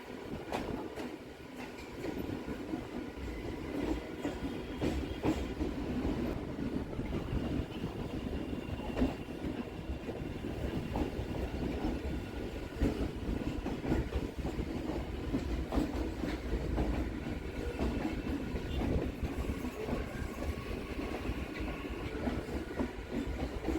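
Riding a local train from Barrackpore to BBD Bagh in Kolkata, a continuous rumbling carriage ride with rhythmic clickety-clack of wheels on the rails and occasional metallic rattles, steady throughout with no talking.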